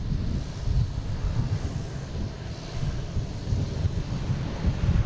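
An American Airlines jet landing on runway 4 left at Boston Logan sounds like a distant, steady low roar mixed with gusty wind buffeting the microphone.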